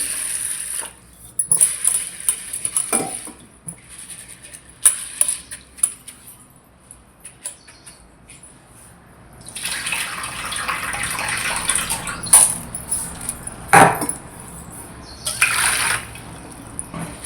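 Sorghum grains being rinsed by hand in water, splashing and sloshing in bursts with short pauses and louder swirling near the end.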